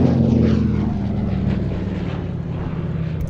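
A propeller aircraft's Soviet licence-built engine drones loudly and steadily at an airshow, its pitch sliding slightly lower as it passes close by.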